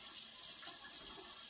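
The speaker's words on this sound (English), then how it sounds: "let me turn on my hot water" Hot water runs from a kitchen tap in a steady, close rush of splashing that fills the short moment without a break.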